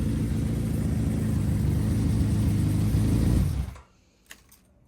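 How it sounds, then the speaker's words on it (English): A Honda CB550 motorcycle engine fitted with Murray's carburetors runs at a loud, steady, rumbling idle close by, then cuts off abruptly near the end, leaving near silence with a couple of faint clicks. "you kind of have to snap the throttle to get it back down to idle"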